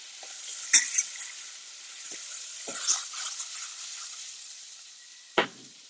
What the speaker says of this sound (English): At this point, add a tablespoon of unsalted butter per person.